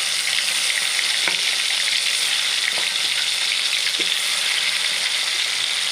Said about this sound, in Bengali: এদিকে কড়াই তেল দিয়েছি এটা গরম হয়ে গেছে এবার মাছগুলো ভেজে নেব